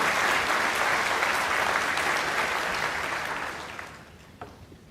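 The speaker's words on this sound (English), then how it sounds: "Let's give a round of applause for Miss Emma Dickinson." A large crowd at a high school graduation breaks into loud, steady applause that holds for several seconds before tapering off, with only a few stray claps left at the end.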